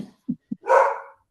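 Close to the microphone a dog gives two short low woofs, then one louder, longer bark, all in a quick sequence with silence around them.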